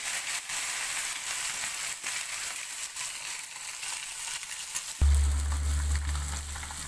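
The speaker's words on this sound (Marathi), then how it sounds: "बारीक बारीक मासं तेलात कसं तळते ती" Small fish frying in a kadhai packed full with a modest amount of hot oil, a steady close sizzle that swells into a louder, denser crackle partway through as more fish go in.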